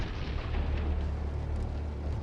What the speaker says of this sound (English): when the fire reaches the ammunition, we see bright sparks from the explosion.